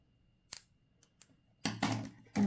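Crochet yarn snipped with scissors: a quick faint snip, then a couple of light clicks and a louder crunchy cut near the end, close and isolated in a quiet room.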